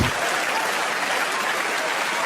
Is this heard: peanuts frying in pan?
no